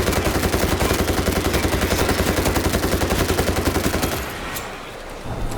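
A mounted gun turret in the zombie shooter World War Z Aftermath fires a loud, rapid, continuous burst of automatic gunfire for about four seconds, then cuts off into a quieter game background.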